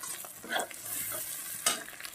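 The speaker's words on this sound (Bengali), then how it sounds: "ডিমটাও আমার ঝুড়ো ঝুড়ো করে ভাজা হয়ে গেছে ফোড়নটার সঙ্গে" Egg scrambled with tempering spices in a pan for arhar dal, a soft, close sizzle broken by a couple of quick spatula scrapes, fairly quiet overall.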